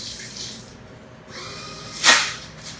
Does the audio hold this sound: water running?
yes